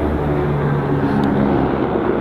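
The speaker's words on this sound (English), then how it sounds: "Helicopter." A helicopter passes overhead outdoors, a steady, loud low rumble that holds constant throughout with no other sounds over it.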